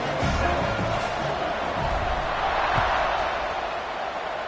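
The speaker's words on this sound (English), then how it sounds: "this crowd is buzzing after that last score" A crowd buzzes in an NCAA 26 college football video game after a score, a steady, distant roar of stadium noise with faint cheering and no clear peaks.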